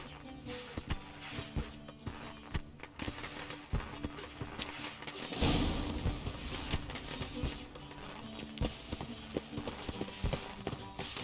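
Steady clip-clop of horse hooves trotting at a moderate pace in the video game The Witcher 3: Wild Hunt, fairly close, with a brief louder rush of movement midway.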